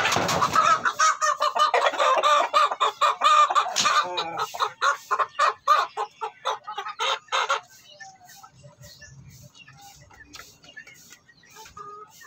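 Native chickens cluck and squawk in a busy, close flock, with dense overlapping calls that thin into sparse, fainter clucks toward the end; no speech.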